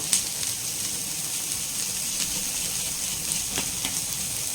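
Onions sautéing in a pan with salt, a steady soft sizzle across the whole stretch broken by a few faint ticks of stirring, no voices.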